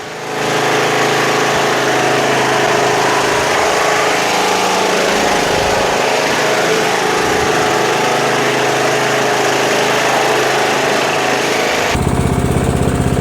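Toro Wheel Horse 1238XL lawn tractor with a Briggs Vanguard engine running, a loud, steady, close mechanical drone that holds evenly throughout with a slight change near the end.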